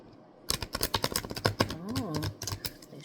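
Tarot cards being shuffled by hand, a quick run of crisp flicking and riffling taps after a brief quiet start, close and fairly faint.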